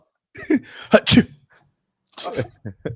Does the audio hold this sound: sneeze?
yes